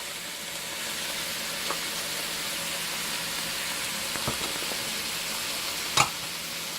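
A whole can of rinsed red kidney beans stirred into a hot, sizzling pan gives a constant close hiss, broken by a few soft knocks of the spoon against the pan.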